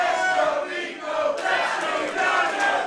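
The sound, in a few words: wrestling event crowd cheering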